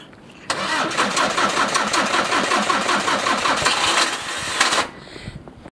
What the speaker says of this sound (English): That sounds like a starter motor.